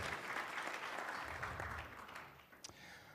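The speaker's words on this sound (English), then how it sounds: "So a round of applause for these individuals and their families." An audience at a workforce meeting applauds honored individuals and their families, a fairly faint, steady wash of clapping that thins out near the end.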